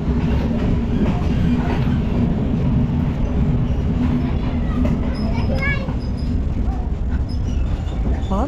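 A train arrives at a forest railway station on a line through elephant country, with a steady rumble and rail clatter and squealing brake tones near the end, while people talk over it.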